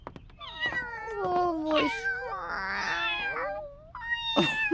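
Cats meow and yowl in long, drawn-out, rising and falling cries, several calls overlapping at close range, with a brief spoken exclamation at the start.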